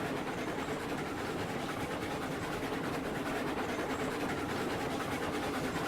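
A locomotive running on rails in the RailRoads Online game, a dense continuous rumble with rhythmic clattering, steady and close throughout.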